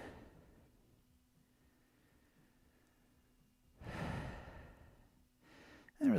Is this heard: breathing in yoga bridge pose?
yes